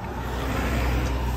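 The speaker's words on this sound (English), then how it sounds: "I do apologize about the traffic." Road traffic rumbles steadily beside a parked Škoda Fabia Style 2022, a loud, close, low-pitched roar of passing vehicles with no gaps.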